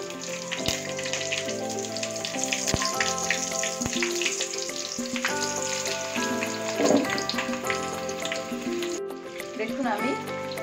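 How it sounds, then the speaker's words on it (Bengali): Batter-coated butter fish deep frying in oil for a Bengali fish fry, a steady crackling sizzle running throughout with occasional clicks and scrapes, close by, while a person talks over it. "দেখুন আমি একদম ডুবো তেলে কিন্তু এগুলো ছেড়েছি"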